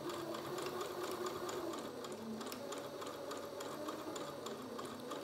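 A sewing machine stitches fabric for a beginner fabric bucket, with pins pulled out as the seam runs. It hums with a steady, fast, continuous mechanical whir and rapid needle ticking, close by and alone.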